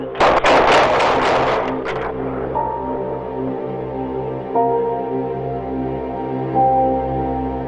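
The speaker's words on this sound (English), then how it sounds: "Subject wouldn't drop knife. Shots fired" Police gunfire during a confrontation with a knife-wielding subject: a loud burst of close, sharp shots at the start, then fading echoes over a steady electronic hum with faint tonal beeps.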